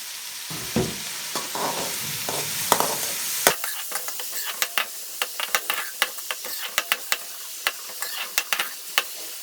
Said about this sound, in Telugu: స్టవ్ మీద కడాయిలో 1 కిలోకి సరిపడా 2 కప్స్ ఆయిల్ హీట్ అయ్యాక ఇలా చిన్నగా కట్ చేసిన 2 ఆనియన్స్ వేసి మంచి కలర్ వచ్చే వరకు ఫ్రై చేసుకోవాలి